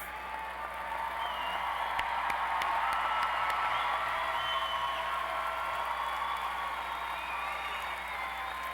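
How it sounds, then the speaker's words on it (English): At a university spring commencement, the crowd gives faint, distant, continuous applause for graduating social sciences and communication students, a steady wash of clapping with scattered louder claps. "Let's applaud the social sciences and communication graduates."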